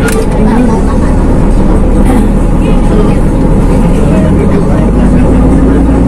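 Surabaya city bus heard from inside, a loud, steady low engine rumble and road noise running throughout, with people talking over it.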